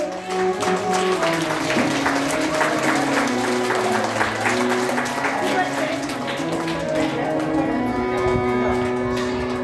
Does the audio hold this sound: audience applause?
yes